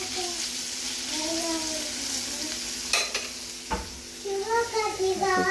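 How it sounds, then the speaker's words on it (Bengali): Bitter gourd frying in a pan gives a steady, close sizzle throughout, with a few sharp utensil clicks and scrapes partway through and faint voices in the background near the end. "এখানে উচ্ছে ভাজা হচ্ছে"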